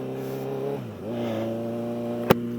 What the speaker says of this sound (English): a little tiny Kaufman exhaust sound, kind of fun